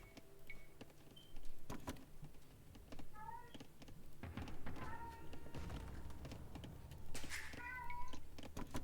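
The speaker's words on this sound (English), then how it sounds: "I'm sorry about my cat." A streamer's pet cat meows several times, short upward-bending cries spread through the clip, over a background of quiet game sounds and soft keyboard clicks.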